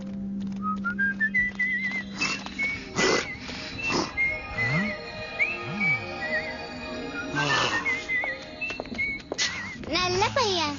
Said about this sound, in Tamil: பாட்டி சொன்ன அந்த விசில் நல்லா வேலை செய்யும்னு நினைக்கிறேன்